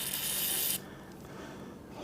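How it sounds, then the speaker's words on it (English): Cleaner sprays onto the brake parts of a Honda Spree scooter in a steady, close hiss. It stops abruptly after under a second, leaving faint rustling behind. "Spray this out really good."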